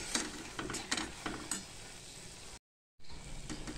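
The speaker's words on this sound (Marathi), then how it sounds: "अशा प्रकारे आता हा छानपैकी आपल्याला खरपूस मसाला भाजून घ्यायचा आहे फिश करीसाठी।" Spice masala roasting in oil for a tilapia fish curry, stirred with a few soft scraping strokes over a low, steady sizzle, cut by a brief dropout of silence before the crackle resumes, close by.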